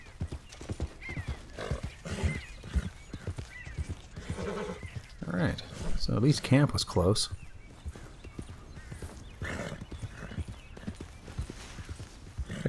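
Horse in Red Dead Online, with rhythmic hoofbeats clopping steadily throughout and a loud whinny near the middle, while someone talks over the riding sounds.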